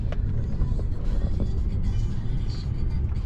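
Steady low road rumble inside a Tesla car booked as a ride-hail, a continuous engine-free drone with faint higher noises on top and no clear talking.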